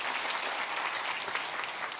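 Church congregation claps together during a Sunday morning service, a dense, steady round of applause from a room full of people that holds at an even level throughout.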